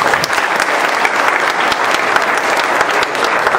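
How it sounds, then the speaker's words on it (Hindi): Loud congregation applause for the Lord at a Christian musical worship event, vigorous dense clapping from a packed room with sharp individual claps popping out of the wash. "जोरदार ताली बजाएंगे प्रभु के लिए।"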